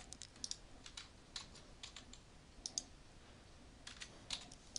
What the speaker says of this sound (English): Just typing in some data.